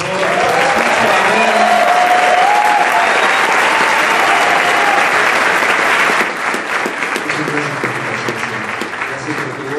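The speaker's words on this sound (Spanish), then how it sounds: "Un aplauso, por favor." Applause at a live symphonic concert honoring Saint Seiya, thick and loud crowd clapping with voices and cheers through it, easing off slightly toward the end.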